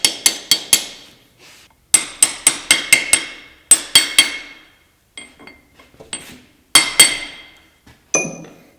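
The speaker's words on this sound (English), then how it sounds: "I've got them all hammered down onto the flats." A hammer strikes nuts flat against the flats on a part from a Farmall Super H tractor. Sharp, ringing metallic blows land close by in quick bursts of three to six, then lighter scattered taps, with no talking.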